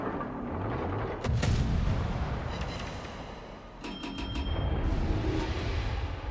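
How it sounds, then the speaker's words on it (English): Aircraft bombs exploding near ships in a naval battle game: deep, rumbling blasts starting at about one second and again near four seconds, with sharp cracks layered over a steady low roar of battle noise. "Looks like the bombs missed"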